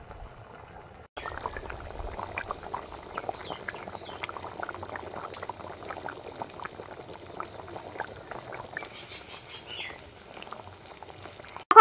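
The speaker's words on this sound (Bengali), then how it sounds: "ঝোলটা ফুটে উঠেছে, এবার ভেজে রাখা কচুগুলো দিয়ে ভালো করে তরকারিটা ফুটিয়ে নেব" Taro curry simmers in a pot, bubbling and popping steadily in a soft, close burble after a quiet start, ending with a sudden clunk.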